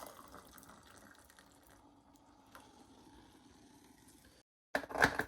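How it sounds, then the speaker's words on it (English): Boiled water is poured into a cup for double layer tea, a soft, steady close-up trickle that runs for several seconds, breaks into a short silence, then a louder gush of water at the end. "So you take your boiled water, pour it into the cup"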